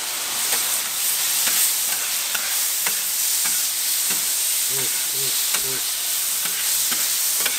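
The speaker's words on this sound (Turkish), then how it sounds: "Şöyle biraz da taze domates suyundan şöyle karıştırmak istiyorum." Fresh tomato juice is stirred into a sizzling frying pan of köfte on a home balcony: a steady close frying hiss with soft scraping stirs and a brief spoken word.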